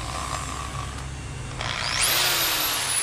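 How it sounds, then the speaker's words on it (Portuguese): A Bosch GBS13RE professional power drill, repaired after a broken cord, runs steadily with a whirring motor hum that rises in pitch and gets louder as it speeds up near the end. "Furadeira com cabo quebrado, ó. Furadeirazinha da Bosch."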